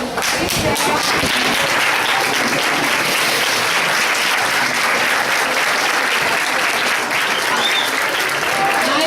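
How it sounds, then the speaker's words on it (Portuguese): A classroom of standing students applauds their professor with loud, continuous, dense clapping that fills the whole stretch, with voices mixed faintly underneath. "a gente aplaudisse o professor"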